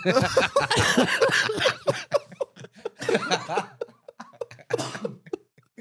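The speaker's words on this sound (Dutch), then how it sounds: "ik had beloofd dat ik ging proberen om niet te hoesten deze episode" A person coughs in several rough, close bursts, mixed with a little laughter and throat clearing, each burst separated by short pauses.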